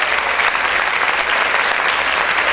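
Loud, dense applause from a church congregation during a worship service, steady and continuous throughout with no gaps or speech.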